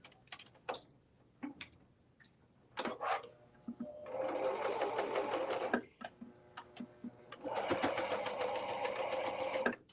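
Serger sewing machine stitching a seam, running in two sustained bursts of rapid mechanical chatter separated by pauses filled with scattered clicks and handling taps.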